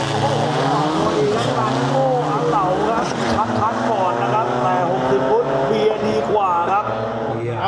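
Isuzu turbo diesel drag trucks race at Bangkok Drag Avenue, engines roaring and rising through gears in a loud sustained pass, with people talking over the noise.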